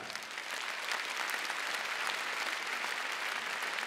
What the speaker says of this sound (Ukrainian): запросити на цю сцену під ваші бурхливі оплески і овації